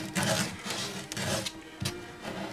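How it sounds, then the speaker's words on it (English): Gel coat on a fiberglass part is hand-sanded with 180-grit sandpaper in quick back-and-forth rasping strokes, close and steady, with no talking. "But I want to roughen it up with some 180 paper."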